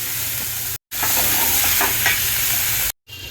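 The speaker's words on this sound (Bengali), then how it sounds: "করলাটা একটু হালকা করে ভাজা ভাজা হয়ে গেলে তারপরে পেঁয়াজটা দিয়ে দেবো" Sliced bitter gourd fries in a pan, a steady loud sizzle with crackling bursts and stirring, briefly cut by two short silent gaps, with no talk.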